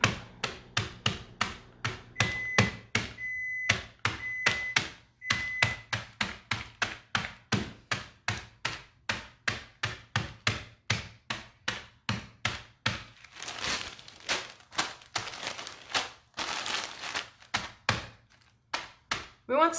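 A kitchen hammer pounds cookies sealed in a Ziploc bag, giving a long run of sharp, evenly repeated thuds with crunching and crinkling plastic, close up and without talk.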